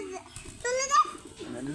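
Pet pigeons being hand-fed at home give soft, short coos close by, mixed in with a child's babbling and an adult talking over them.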